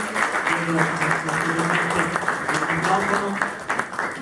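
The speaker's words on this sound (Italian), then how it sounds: "Un applauso a Benedetto De Pizzol." Applause from an audience at a wine-city civic event, a steady, fairly loud bed of clapping that eases off toward the end, with a low hum beneath and a little background voice.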